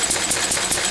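An old Lister D engine runs at a steady pace, its close, loud, rhythmic chugging thumps repeating several times in under a second.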